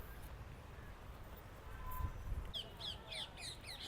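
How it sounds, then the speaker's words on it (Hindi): Crows cawing from a tree in the landscaped garden at Suraj Kund, a series of harsh repeated calls in the second half over steady outdoor ambience. "यहाँ की कितनी सुंदर ध्वनि पक्षी इस पर पेड़ पर बैठकर कर रहे हैं"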